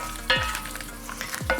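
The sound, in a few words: vegetables sizzling while browning in a pan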